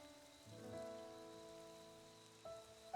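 Soft rain patters in the Xenoblade Chronicles 2 video game world, very faint and continuous beneath sustained game music tones.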